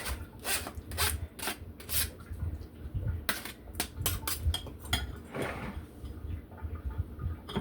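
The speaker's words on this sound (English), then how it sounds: "You have to get a brush and wash your ginger, scrub it down properly" A brush scrubs unpeeled ginger root under washing, irregular bursts of close scratchy bristle strokes with light knocks and handling noise, no talk.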